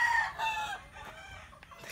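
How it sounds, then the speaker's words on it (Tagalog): Hens cluck in a chicken breeding pen on a small farm. The clucks are close and moderately loud, one bird calling over soft farmyard background noise, with no talk. "Tatlo ang inahing manok ang nakasalang ko dito sa breeding pen."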